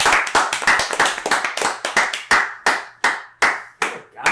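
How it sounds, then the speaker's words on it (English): A small group claps in a studio setting, starting as a quick scattered burst of hand claps and thinning to slower, separate claps, close and loud with no talking over it. "clap it up for Jesus"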